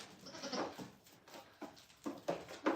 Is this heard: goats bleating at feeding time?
yes